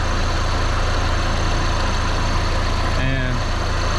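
Audi TT engine idling after a jump start during a restoration, a loud steady low rumble throughout, with a brief voice near the end.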